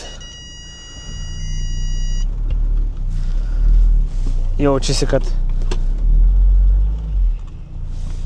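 A BMW M550i that had sat parked for a long time is shifted forward and then backward, its low engine rumble steady throughout with a brief whirring chirp midway, while someone talks over it.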